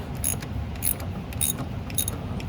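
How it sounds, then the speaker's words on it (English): A 3/8 ratchet loosens a spark plug on a Mercedes S560 V8, giving close, quick clicking pawl bursts about every half second in a steady rhythm, with no talking. "okay, now I got my 3/8 ratchet. I'm gonna loose it."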